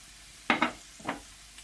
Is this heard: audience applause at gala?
no